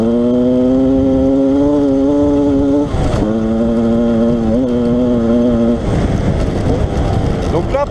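A Yamaha 125 DTR enduro motorcycle on its stock exhaust revs close by, a loud steady engine note holding, dipping briefly, then climbing again, with someone talking over it.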